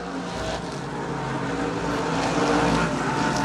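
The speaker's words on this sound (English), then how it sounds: "He's racing hard with Shaw out of turn number two" Race cars roar around a speedway out of turn two, a dense, steady engine drone that swells slightly as the pack passes, heard at some distance with no talk over it.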